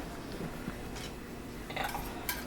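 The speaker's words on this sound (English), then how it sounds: "we're going to spread our seafood out in our pan" Seafood for a Cajun seafood fondue being spread out in a pan, with soft clinks and scrapes of a utensil against the pan, a few sharper taps near the end, close and fairly quiet.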